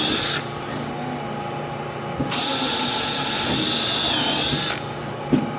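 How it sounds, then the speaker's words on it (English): Power drill boring 1/8 inch holes for clecos through a thick metal mesh vent panel, a steady high whine running for about two seconds, then a longer sustained stretch of several seconds, with a sharp knock near the end. "We're gonna drill 1/8 inch for the clecos right now."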